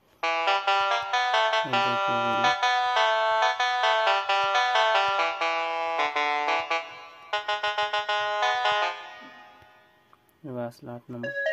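Casio SA-41/SA-21 mini keyboard playing an electronic organ tone in a bright, sustained melody with chords, loud and continuous, then a pause and a short final phrase.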